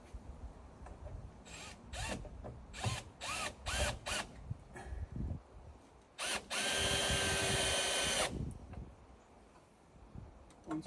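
A power drill drives a screw into a roof beam during a roof installation, with several short trigger bursts followed by one longer sustained run of about two seconds, close and fairly loud.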